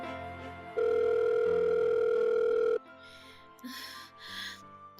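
A telephone gives a single loud, sustained electronic tone for about two seconds, then cuts off, and soft breathy gasps follow in a quiet room.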